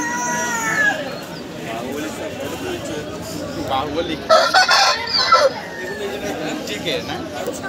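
Chickens cluck and crow close by at a busy animal and bird market in Nadia district, with a louder burst of squawking midway and crowd chatter and talk throughout.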